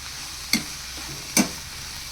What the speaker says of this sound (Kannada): ಅದನ್ನು ಕೂಡ ಚೆನ್ನಾಗಿ ಎಣ್ಣೆಗೆ ಫ್ರೈ ಮಾಡ್ಕೊತಾ ಇದ್ದೀನಿ